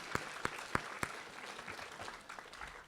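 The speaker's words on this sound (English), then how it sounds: "Can I just get another nice round of applause for this panel?" Audience applauding a panel at a student-hosted political forum, a few sharp claps up front and then a faint, thin patter of clapping further off.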